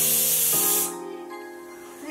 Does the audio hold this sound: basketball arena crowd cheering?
no